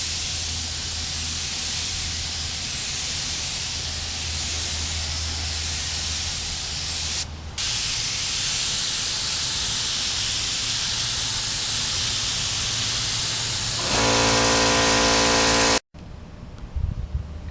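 A spray gun lays gold paint onto a Kawasaki Ninja fuel tank in a steady, loud hiss that runs almost unbroken for about fourteen seconds with one brief pause, then cuts off.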